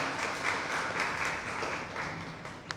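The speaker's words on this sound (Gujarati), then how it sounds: "તાળીઓથી વધાવીએ." Steady applause from an audience at a book talk welcoming a speaker and the book's author, moderately loud, continuous clapping that carries evenly throughout with no speech on top.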